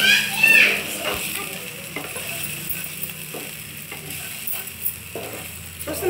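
Okra frying with chili powder is stirred in a pan, giving soft repeated scraping and tapping strokes over a low sizzle, with faint background voices and household noise.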